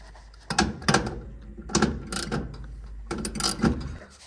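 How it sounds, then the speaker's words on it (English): Screws being tightened on the bracket of a fireplace thermocouple pilot assembly, heard as three separate bursts of metallic clicking and scraping close to the mic, with no voices. "go ahead and start tightening up the screws from the bracket that you had to remove."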